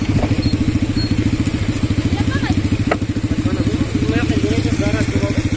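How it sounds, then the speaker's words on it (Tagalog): Small motorcycles of about 125 to 150cc idling nearby with a rapid, even putter and occasional clatter, loud and close, while people talk over the engine noise. "Maliliit lang naman ang motor na to, mga 150cc, 125, mga ganun."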